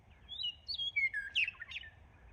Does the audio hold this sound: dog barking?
no